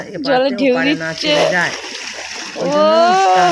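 Water is splashed by hand in a marsh in the Sundarbans to drive fish toward a net, sloshing under a loud voice talking nearly throughout.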